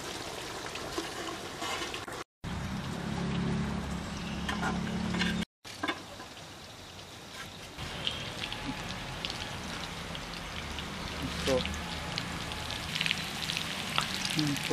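Chicken fries in a pan for a village-style chicken fry, giving a steady hissing sizzle that crackles on, with two brief dropouts.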